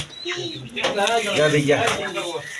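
Kaldam high-flying pigeons cooing in soft, rounded calls that run steadily through the clip, close by, with a voice talking over and between them.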